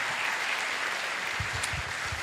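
Audience applause at a worship gathering, a steady, full-bodied clapping that fills the whole stretch, with a few heavier thumps near the end.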